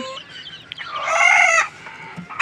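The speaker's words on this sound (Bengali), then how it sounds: "এই যে মুরগিগুলো আলহামদুলিল্লাহ খুব সুস্থ আছে, ভালো আছে মাশাল্লাহ।" Healthy desi chickens on a small backyard farm cluck close by, with a rooster-like crowing call rising loud for about half a second in the middle before settling back to scattered clucks.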